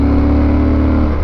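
A Yamaha Super Tenere motorcycle engine drones loudly and steadily at close range on a Route 33 ride through West Virginia, over a brief stretch of even, sustained revs.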